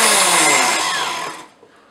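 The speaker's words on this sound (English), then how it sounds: "You can use a food processor. I just use my blender." A blender grinds gluten-free oats with a loud, close, high motor whine that winds down and stops after about a second and a half.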